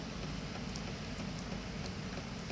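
Rainwater drips onto zinc eaves of a wooden house as steady rain falls. It makes a faint, continuous patter with scattered tapping drops and no voices.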